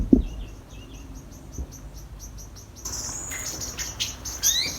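Outdoors, a bird gives a regular series of quick, high chirps while a cat chases it, the calls close and clear at first, then joined by busier, shriller chirping and insect-like buzzing, with no talking.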